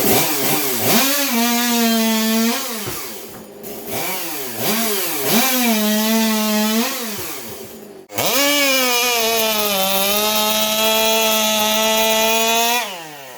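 An 084 race chainsaw on a nitrous oxide wet shot screams at high revs, loud and close, cutting in surging bursts that rise and fall, then holding a long steady wide-open howl before dropping off.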